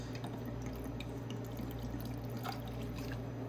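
Coconut rum poured into a measure, a soft steady trickle of liquid lasting a few seconds, faint and close with no talk.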